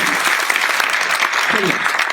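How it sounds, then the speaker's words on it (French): Audience applause breaks out at a live French stage show, a steady dense patter of clapping that fills the whole short stretch with some voices mixed in. "on peut l'applaudir"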